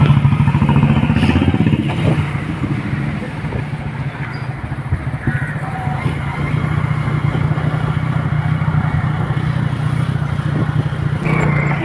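Motorbike riding uphill toward the hills, its engine a loud, steady drone close by with rattling clatter and slight shifts in revs, and no voices over it.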